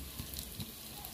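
Slices of tambakol tuna fry in a pan with onion, garlic and ginger, giving a soft, steady sizzle with faint crackles and a brief louder clatter at the end.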